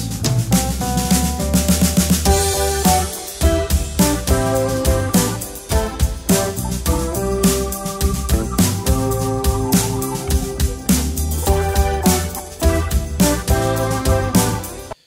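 A live band plays a busy, steady groove with punchy drums, bass and chordal instruments, loud and continuous throughout.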